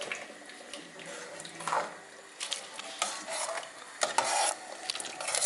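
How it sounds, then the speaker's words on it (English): A spoon stirs a pot of Greek bean soup (fasolada) with vegetables and olive oil, giving intermittent scraping and swishing strokes in short bursts separated by quieter pauses, close and moderately loud. "So give it a stir."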